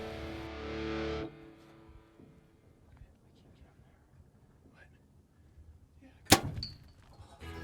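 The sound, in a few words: arrow shot from a bow while hunting a buck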